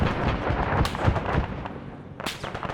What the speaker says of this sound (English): He's even got some rockets going right here.